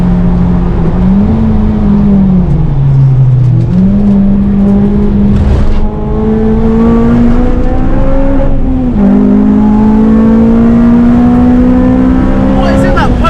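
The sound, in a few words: Volkswagen Polo GTI racing at Snetterton circuit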